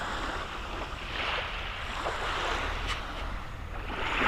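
Sea waves in thick fog near Anapa roll in as a soft, distant broadband wash under light wind, growing slightly louder toward the end, with no one speaking.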